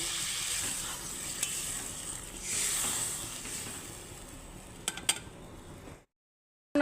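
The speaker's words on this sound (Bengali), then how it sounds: "এবার আমি জল দিয়ে দিচ্ছি" Water is poured into a pan of frying silver carp curry with potatoes, making a loud, steady sizzling hiss that swells briefly. A couple of sharp metal clinks follow before the sound cuts off.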